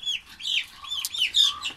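Chickens of an unidentified breed clucking in short repeated bursts, close and fairly loud, with no talk over them.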